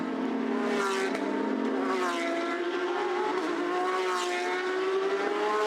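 Porsche Carrera Cup race cars on a formation lap at Zhuzhou sweep past with a sustained, loud engine drone, pitch rising and shifting as several cars pass in a continuous stream.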